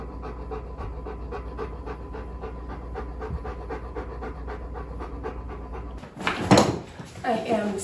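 Heavy, rhythmic dog panting close by, steady rapid breaths for several seconds, then a louder burst of rustling and movement near the end.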